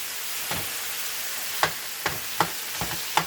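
Ground hamburger meat sizzles in a pan with a steady hiss, punctuated by several sharp scraping clicks of a spatula stirring it.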